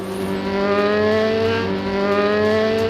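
Formula 3 racing car driven by young racer Juju Noda, a loud steady engine drone with sustained high revs and strong tonal harmonics, close and continuous without a break.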